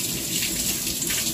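Water gushes from a tap fed by a gas water heater, a steady, close, fairly loud hiss of running flow with no breaks and no talking.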